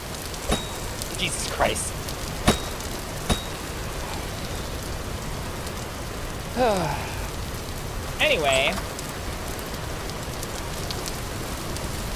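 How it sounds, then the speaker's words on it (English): Steady rain falls in the video game Vintage Story, a constant hiss on surfaces that runs throughout, with a few brief louder clicks and a person speaking briefly over it. "Damn, that rain's loud, isn't it?"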